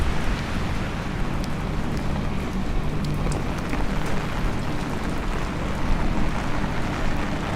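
Rain falling on a Manhattan street in August, a dense, steady hiss of drops with scattered sharper patters, continuous and fairly loud throughout.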